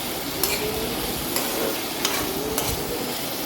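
Salted vegetable pieces for a theeyal are stirred in a pan over a low flame: a steady close sizzle runs throughout, broken by four sharp spoon-scrape strokes spaced roughly a second apart, with no speech.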